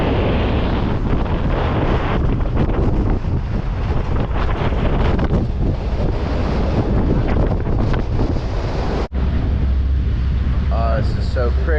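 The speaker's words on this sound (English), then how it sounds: "it's super windy, so excuse the wind" Strong outdoor wind buffets the microphone in a loud, continuous roar with gusty surges near the water in Sydney, Australia, cutting out briefly before a voice begins to speak.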